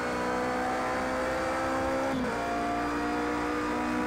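Race car engines from Project CARS 2 in a WEC endurance race hold a steady, loud high-pitched drone while overtaking a BMW, with a brief dip and pitch shift midway as a car passes.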